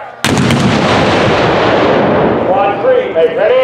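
A Civil War mortar or cannon fires at an N-SSA artillery match, a single huge, close boom followed by a long rumbling roar and echo, with voices calling out faintly near the end.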